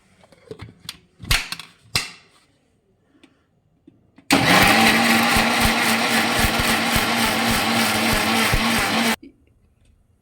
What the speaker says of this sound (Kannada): ಬನ್ನಿ ಈಗ ರುಬ್ಬೋದಕ್ಕೆ. ಒಂದು ಮಿಕ್ಸಿ ಜಾರ್ಗೆ ಮೆಣಸಿನ್ಕಾಯಿ